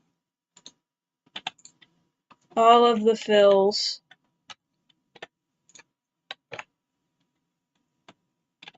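Computer keyboard keys click in sparse single taps and short clusters, close and crisp, with one brief stretch of speech in the middle.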